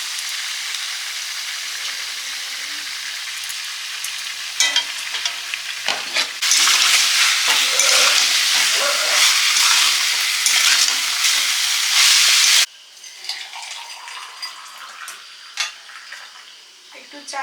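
A pan sizzles loudly while food is fried and stirred, with utensil clinks and scrapes. The frying swells to a strong hiss midway, then drops back to quieter scraping and tapping.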